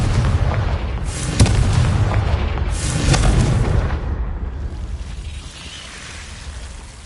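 A Confringo spell in Hogwarts Legacy erupts as deep booming blasts, two sharp explosive hits followed by a long rumbling roar that slowly fades out, loud and close.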